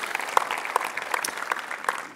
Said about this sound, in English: definitely applause for them.